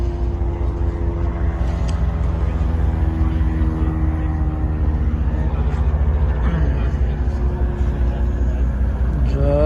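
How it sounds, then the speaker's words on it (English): Loud, steady engine roar of an airplane nearby on Catalina Island, droning continuously with shifting pitch throughout. "Got the airplane."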